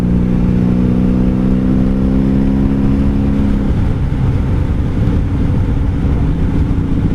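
Engine of a 1997 Honda Magna VF750C motorcycle on a highway run, a loud steady drone with strong harmonics that shifts pitch partway through, blended with continuous wind rush.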